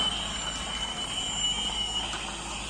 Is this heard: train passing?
yes